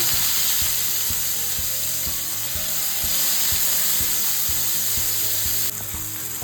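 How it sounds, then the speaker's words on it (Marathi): Tomatoes fry in hot oil in a pan on a gas stove with a dense, steady hiss and crackle, accompanied by regular mechanical ticking clicks throughout. "आता त्याच्यामध्ये हे टोमॅटो टाकणार आहे, हे जरा भाजून घेणार"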